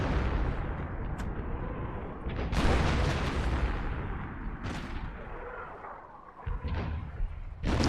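25-pounder artillery shelling a mortar position in a video game battle, heavy booming blasts and rumbling gunfire that repeat through the scene, loud and close with rolling echoes between the impacts.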